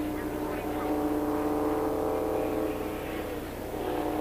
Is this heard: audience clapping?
no